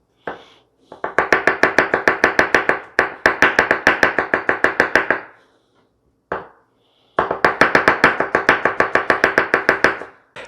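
A knife chops rapidly on a cutting board, finely mincing an ingredient for a ground chicken chili, in loud, close bursts of evenly spaced strikes separated by short pauses.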